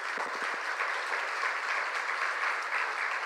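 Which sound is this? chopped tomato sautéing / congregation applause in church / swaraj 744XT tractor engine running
congregation applause in church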